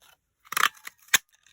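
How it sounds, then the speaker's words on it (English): Scissors cut paper pieces for Christmas crafts, two crisp close snips about half a second apart, the first longer and crunchier, with no talking. "I'm going to cut 2 of these, and I'm just going to cut 1"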